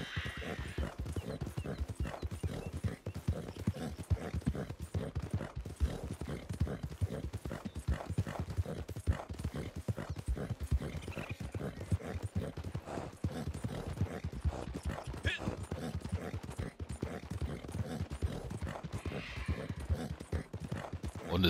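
Horse hooves clip-clop in a steady, even rhythm at a slowish gait in the Western video game Red Dead Redemption 2, quiet and continuous with a faint whinny now and then, and no talk over them.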